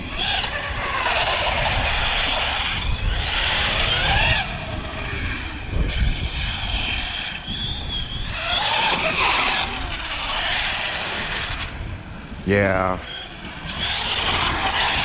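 An Arrma Big Rock 6S RC car street drifting on pavement, with a continuous whine of its electric motor and hissing tire scrub that surge and fade across the clip, plus a brief chattering burst near the end and a short spoken word.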